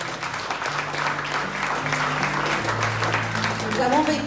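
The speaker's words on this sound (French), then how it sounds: "Amen. Acclamez très fort." A church congregation at a testimony service claps in sustained, dense applause that continues throughout, with faint tonal sounds beneath it.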